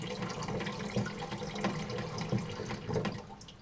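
Water running into an in-wall toilet tank, a steady gurgling trickle and splash with small pulsing surges, close and continuous without voices; the shut-off is not heard.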